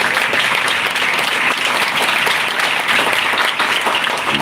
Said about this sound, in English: Let's give all of them a one big round of applause as well.